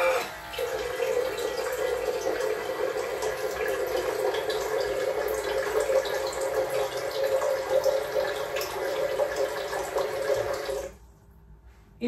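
Water runs steadily from a tap into a kettle, filling it close to the brim, a continuous near splashing stream that stops abruptly near the end.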